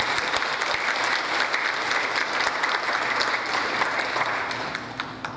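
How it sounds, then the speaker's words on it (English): A crowd applauds steadily and loudly at a Korean War 72nd anniversary event, the clapping dense and sustained, then tapering off slightly toward the end. "Let's give them another round of applause, please."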